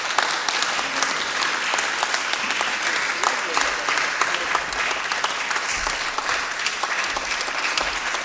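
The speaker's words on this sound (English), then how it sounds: "You're clapping for years of service to humanity" Sustained applause from an audience at a women political leaders summit fills the space, a dense, steady clapping that continues throughout, with no talk audible above it.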